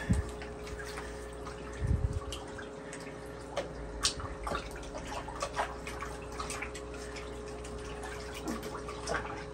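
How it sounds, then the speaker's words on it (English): Water runs and trickles while aquarium glass is rinsed during a weekly water change, with a steady flow broken by irregular splashes and drips close by. "wash the glass off."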